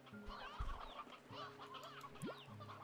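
Chickens and roosters cluck on a farm in the video game Slime Rancher 2, with scattered clucks and squawks over a soft background and one rising call near the end.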